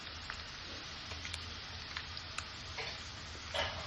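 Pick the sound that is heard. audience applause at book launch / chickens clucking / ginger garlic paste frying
ginger garlic paste frying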